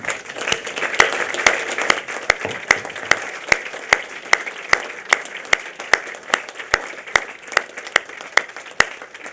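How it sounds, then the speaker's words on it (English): Ceremony audience clapping for families and supporters at a diplomates ceremony: a broad crowd applause bed with one nearby pair of hands striking sharply in a steady, regular beat on top, loud and continuous throughout. "a large round of applause for your family, friends and supporters"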